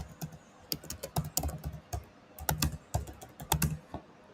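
Steady typing on a computer keyboard, close and fairly loud, uneven runs of sharp key clicks with brief gaps, no talking.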